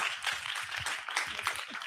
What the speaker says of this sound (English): Can we welcome them on with another round of applause?